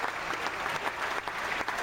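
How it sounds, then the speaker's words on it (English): A crowd claps in a steady, moderately loud burst of applause, heard at some distance with a dense texture. "He's giving me a roaring round of applause."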